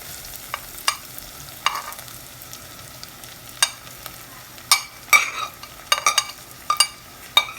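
Onions and soya meat sauté in a pan, a low steady sizzle under sharp scrapes and clacks of a spoon stirring, with irregular metallic strikes growing busier toward the end; nobody talks.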